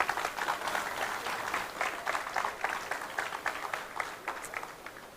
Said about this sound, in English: kriegt ihren Applaus und ihr müsst sehr laut applaudieren